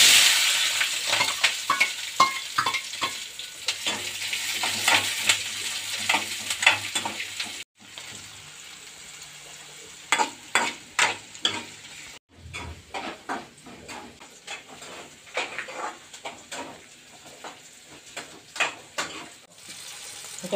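Sliced onions with four green chillies and three dried red chillies sizzle in a pan, stirred with repeated sharp scraping strokes over a steady frying hiss, close and moderately loud, with brief quieter pauses and no talking.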